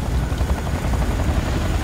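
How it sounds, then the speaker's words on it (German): Helicopters fly through a canyon in the video game C&C Renegade, their rotors making a steady, loud, rumbling thrum that fills the clip without pause and with no talk over it. "Also wie die Helikopter hier teilweise rumfliegen, ne?"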